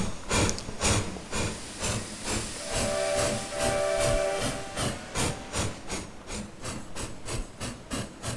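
A Canadian Pacific 2-10-4 Selkirk steam locomotive in the Trainz 2019 simulator sounds its whistle, a steady mid-length tone over rhythmic chuffing and hissing steam, with no voices.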